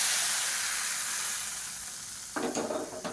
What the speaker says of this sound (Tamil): இப்போ அப்படியே எடுத்து தாளிப்பை இந்த ரசத்தில் சேர்த்துக்கலாம்.